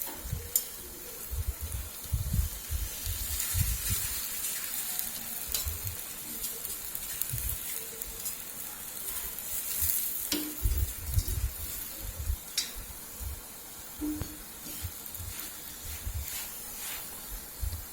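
An aloo paratha fries in ghee on a pan, giving a steady low sizzle with soft scraping and occasional clicks throughout, no talking.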